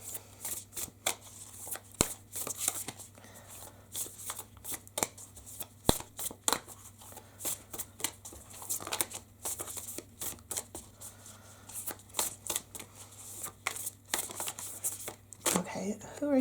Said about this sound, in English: You don't want to be shuffled.